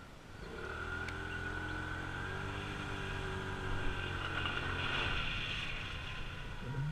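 A TVS Wego 110 scooter riding along, its small engine droning steadily with a slight rise in pitch, with no talking.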